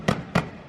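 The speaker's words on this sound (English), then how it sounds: "launching these really loud fireworks for every driver, even Joey Gase." Two sharp, loud firework bangs go off in quick succession during NASCAR driver introductions at the Southern 500 in Darlington, each one followed by a short fading tail.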